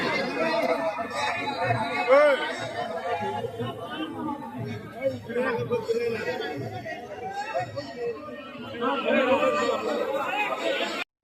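A packed crowd of devotees at a hilltop fort temple murmurs and chatters continuously, overlapping voices forming a dense, steady babble close by with occasional louder calls.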